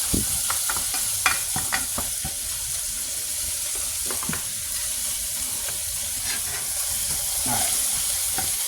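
Ground beef searing in a hot pan while a spatula breaks it up, a constant crackling sizzle with repeated sharp scrapes and knocks against the pan, no speech.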